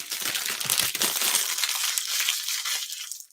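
Paper being scrunched and crumpled by hand during a crafting session, a dense, loud crinkling rustle that runs continuously and fades toward the end.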